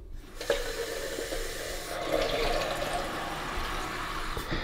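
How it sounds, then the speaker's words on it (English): Fresh water pours from a tap into the removable water tank of a Nescafe Dolce Gusto Mini Me coffee machine by De'Longhi, a steady close rushing stream that swells slightly midway and runs for several seconds. "you can add fresh water in here or top it up"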